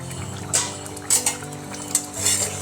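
A spoon stirs mung dal and poppy seed curry in a metal pot, giving a few distinct clinks and scrapes against the pot over a low steady background, close and moderately loud.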